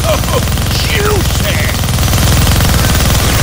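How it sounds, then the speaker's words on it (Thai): A minigun in the Deadpool video game fires in a dense, continuous rapid-fire roar at full loudness, with brief voice fragments poking through. "Gonna need both hands to shoot that minigun."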